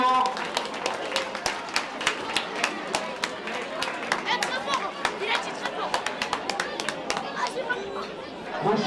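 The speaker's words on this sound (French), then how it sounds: "Vous pouvez les applaudir très fort." A crowd claps after an under-17 Mexico–Japan football match at a youth tournament in Montaigu, a lively scatter of hands under steady chatter and voices, spread across the whole stretch.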